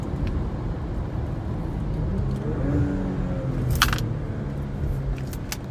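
A 2021 Porsche Macan GTS with its 2.9-litre engine and a Vector tuning chip hums steadily from inside the cabin, a low engine drone that swells gently under acceleration, broken by a few faint clicks.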